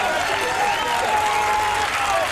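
At the 1991 ultimate frisbee men's world final in Toronto, a crowd applauds in a continuous, loud wash of clapping, with a voice faintly audible underneath.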